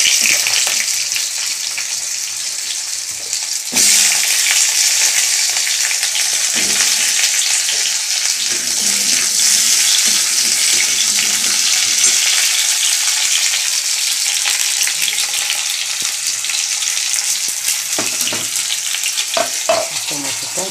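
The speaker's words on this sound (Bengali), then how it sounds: "আলুগুলো ছেড়ে দেবো।" Potatoes fry in hot oil tempered with nigella seeds in a pan, a loud continuous sizzling hiss heard up close, with occasional scrapes and clinks from stirring near the end and no voices.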